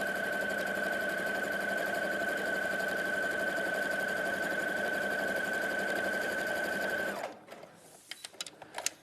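Domestic sewing machine running fast and steady while stitching a quarter-inch patchwork seam, a close mechanical whir that stops abruptly near the end, followed by a few small clicks and handling noises.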